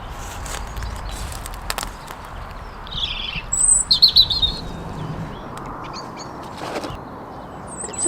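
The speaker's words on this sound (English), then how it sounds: "there's a little bird somewhere singing a beautiful song. That's a robin" A robin singing just a few feet away outdoors, with bright chirping phrases clustered in the middle over soft background noise and occasional rustling.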